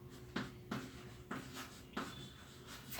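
Pen writing factors on paper during a maths lesson on factorisation, heard as a few soft, evenly spaced scratching strokes over a low background hum.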